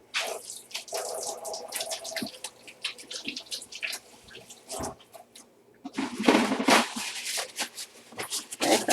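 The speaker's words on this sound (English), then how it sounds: "I'm going to wash my hands one more time." Hands washed under a running tap, with splashing water and rubbing in short bursts, louder toward the end, close and fairly quiet.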